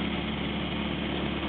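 A 1934 Morris 10 convertible's engine drones steadily as it labours up a hill in fourth gear, a continuous low strained rumble from inside the car.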